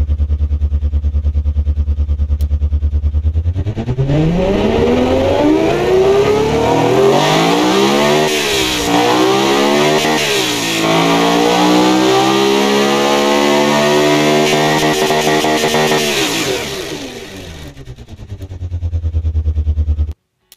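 A car engine starts and revs hard, its pitch sweeping up and down through repeated loud throttle blips before settling back to a steady idle.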